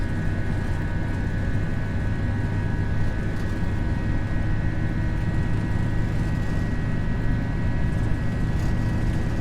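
Steady, loud engine roar of a British Airways A320 on its takeoff roll out of London Heathrow in the Prepar3D flight simulator, an unbroken drone with no talking.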